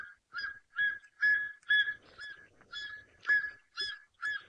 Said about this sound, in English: martial eagle call sounds like. Let's play it.